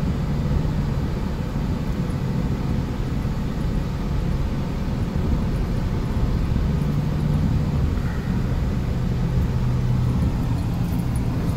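Car being driven past industrial tanks near a methanol plant: continuous low engine and road rumble with steady tire and wind noise heard from inside the cabin, no voices.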